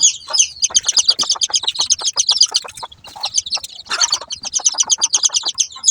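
Chicks and chickens being vaccinated chirp in rapid, continuous high peeps, close and loud, with a brief clucking burst near the middle and no talk.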